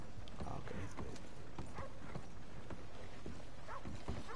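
Horse hooves clip-clop steadily in the Red Dead Redemption video game, a rapid rhythmic trot heard close against a constant noisy game background.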